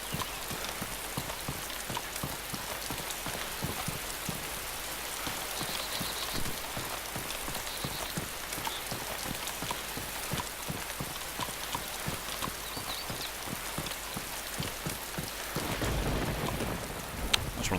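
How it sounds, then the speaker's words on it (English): Steady rain pours down across an open town in a survival video game, a dense even hiss of drops on surfaces that stays constant throughout and swells slightly louder near the end. "Still, clear skies and rain, that's never good."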